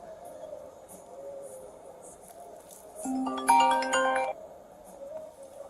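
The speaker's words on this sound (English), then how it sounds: "I thought that was my phone ringing." A phone ringtone plays loud and close, a bright repeating electronic melody of stacked tones lasting about a second, standing out above a steady background murmur.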